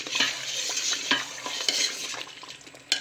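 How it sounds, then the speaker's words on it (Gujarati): Jaggery melts into ghee in a pan while being stirred for Gujarati gundar pak. A soft sizzle sits under repeated scraping strokes and the occasional clink of a spoon against the pan, close by with no talking. "ઘીની અંદર ગોળ પૂરી રીતે ઓગાળી દેવાનો છે"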